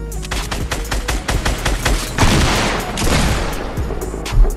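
Rapid automatic gunfire from the Fortnite video game rattles in a dense, steady stream of close, loud shots, swelling into a heavier blast in the middle before trailing off, with no talk over it.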